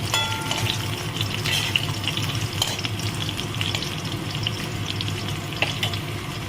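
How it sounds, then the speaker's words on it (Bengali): Pointed gourd (kakrol) pieces frying in oil in a pan, with a steady sizzle and occasional sharp crackles and stirring clicks, heard close and alone. "আমি কাঁকরোলগুলোকে সুন্দর করে ভেজে নিলাম"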